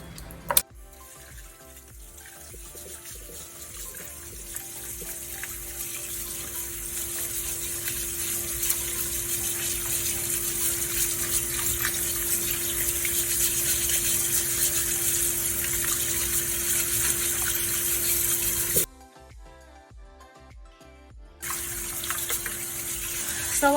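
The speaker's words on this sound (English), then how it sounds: "I'm just scrubbing off any excess dirt that's on the legs" Crab legs are scrubbed under a steady stream of running tap water for a Jamaican curry crab, the water gushing continuously and loudly into a sink, with a brief drop when the flow changes near the end.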